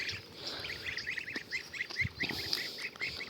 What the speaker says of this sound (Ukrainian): Маленькі гусюньки.